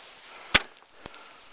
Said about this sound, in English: we're gonna hit the ice twice with the spud bar out in front of us